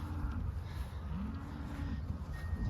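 Cows on a ranch moo in long, low drawn-out calls, one after another, under constant wind and engine-like rumble outdoors.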